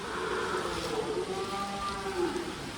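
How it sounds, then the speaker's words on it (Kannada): Cattle moo in low, drawn-out calls while being fed snacks at a farm, heard faintly and at a distance against a steady background hiss, with no talking. "ಓ ದನದ ರಾಶಿ ಉಂಟು ಮಾರಿ ಇಲ್ಲಿ"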